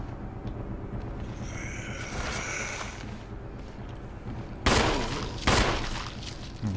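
Two sharp gunshots ring out near the end in Resident Evil HD Remake, fired at a zombie, following a stretch of muffled in-game ambience.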